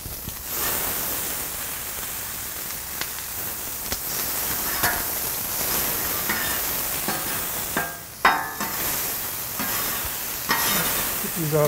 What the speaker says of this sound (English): Get a grill going on the onions.